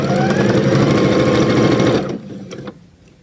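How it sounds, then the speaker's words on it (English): A sewing machine stitches down the side of a fabric doorstop in a loud, fast continuous whir lasting about two seconds, then stops abruptly with a few faint clicks and handling sounds. "we're going to sew down that side as we did with the other two"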